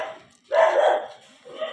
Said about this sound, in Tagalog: Tapos nagtahulan yung mga aso.